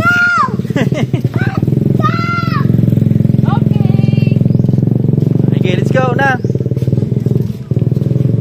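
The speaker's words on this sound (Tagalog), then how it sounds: "Oh, may motor, ah. Dong, there's a motorcycle." Motorcycle engine droning steadily and fairly loud throughout, with several voices talking and calling out over it.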